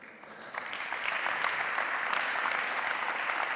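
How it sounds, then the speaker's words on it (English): Audience applause at a Latin dance lecture on Paso Doble body position, a steady burst of clapping from a crowd that swells after a moment and holds at an even, moderately loud level. "Give her an applause."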